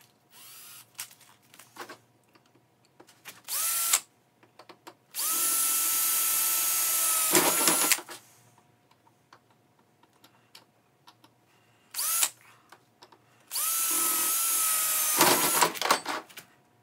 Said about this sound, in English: right now I gotta drill the holes for these